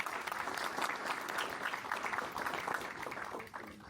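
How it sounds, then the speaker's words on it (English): Sustained applause from the audience at a technical engineering workshop, an even wash of many hands clapping, fairly distant and faint throughout. "A round of applause for our Oscar."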